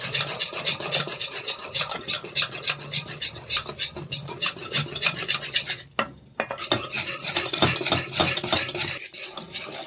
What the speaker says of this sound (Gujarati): હવે આપણે ખીરાને ફેટી લઈશું અને એક જ દિશા પર ફેણીશું